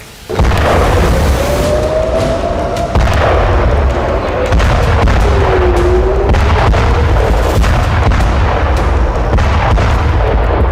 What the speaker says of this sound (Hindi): तीन दिनों से लेबनान की राजधानी बेरूत में इसी तरह से विध्वंसक बमबारी हो रही है।